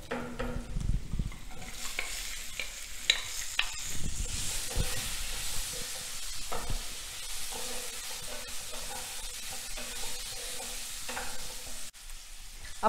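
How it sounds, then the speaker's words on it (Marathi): Ivy gourd (tondli) and onion sautéing in a pan, giving a steady, close sizzle with frequent stirring scrapes, loudest and rougher in the opening seconds, then a continuous even hiss to the end. "छान कांदा परतला की त्यामध्ये आता आपण तोंडली परतून घेणार आहोत."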